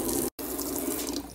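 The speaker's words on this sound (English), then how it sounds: "Turn on water, flip the switch" Tap water runs steadily and loudly through a faucet-mounted Brita filter, with one very brief dropout early on and no talking.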